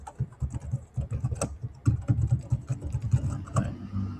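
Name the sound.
typing notes on a computer keyboard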